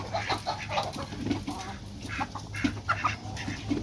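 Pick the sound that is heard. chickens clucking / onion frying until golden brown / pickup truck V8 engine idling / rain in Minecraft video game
chickens clucking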